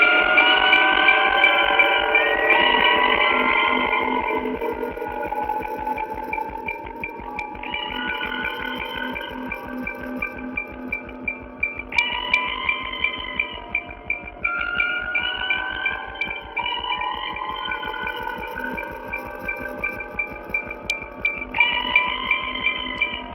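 Horror trailer sound design for the film Alien: a fast, steady heartbeat-like pulse throbs under processed droning tones while sonar-style beeps repeat at intervals. The layers grow louder and more intense, with no talking.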